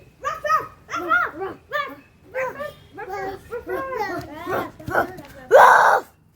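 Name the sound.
child imitating a dog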